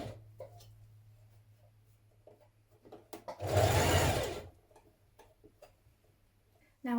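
A sewing machine stitches a dress facing in place, a burst of fast, steady mechanical whirring lasting about a second near the middle, with quiet ticks and handling sounds before and after.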